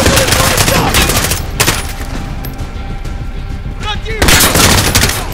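Machine gun fire in a Call of Duty Modern Warfare battle crackles in dense bursts, loud and close, pausing briefly before resuming, with shouted voices over the gunfire.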